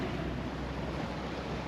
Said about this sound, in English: This is a pretty calm sea, right? I mean, pretty flat. We just have little swells.